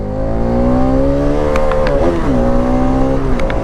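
A motorcycle engine with a full-system exhaust revs loudly up close, a strong sustained drone that rises, dips sharply around the middle and climbs again.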